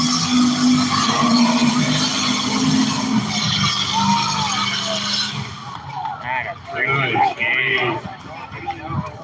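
A deep V8 pickup truck engine rumbles and revs loudly at first with a squeal of tires, then fades as people talk and cheer nearby.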